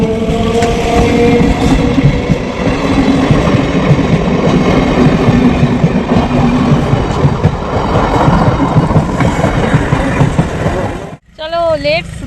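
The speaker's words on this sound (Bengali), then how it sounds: "রেলগেট পড়ে গেছে ট্রেন আসবে" A loud train rumbles past a level crossing with rhythmic clatter of wheels on track, a horn tone near the start, and people talking nearby toward the end.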